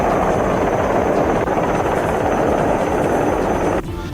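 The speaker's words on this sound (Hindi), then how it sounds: "थोड़ी ही देर में हेलीकॉप्टर समंदर में जहाज के पास मंडराता देखा।" A helicopter hovers near a ship at sea, its rotor roaring in a loud, steady, dense wash that holds for about four seconds before dropping slightly at the end.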